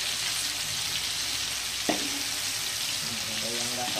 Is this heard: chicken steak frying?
yes